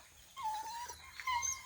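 Dogs whimpering and whining in a long, high wavering cry, then a couple of shorter yelping whines near the end, fairly close and with no one speaking over them.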